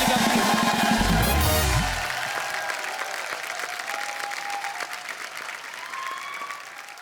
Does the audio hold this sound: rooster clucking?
no